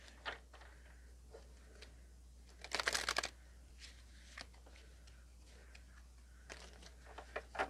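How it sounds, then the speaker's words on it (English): Faint rustling and flicking of cards being shuffled, with a brief louder riffle burst midway over a low steady hum. "So one more shuffle."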